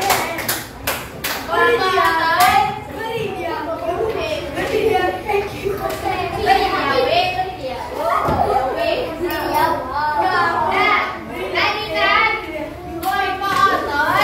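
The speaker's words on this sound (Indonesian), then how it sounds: "Oke, beri tepuk tangan untuk kelompok otot." A classroom of children claps for a student group, scattered claps breaking out near and loud at the start and again at the end, with lively kids' voices and chatter running throughout.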